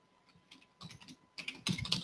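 Someone types code on a computer keyboard, with soft scattered keystrokes at first building into quicker, louder clusters of clicks, close and with no speech.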